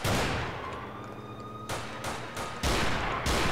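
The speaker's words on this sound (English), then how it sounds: "Shots fired." Gunfire in the video game GTA IV, with several loud bursts of shots in a rapid volley and a siren wailing beneath them; no talk.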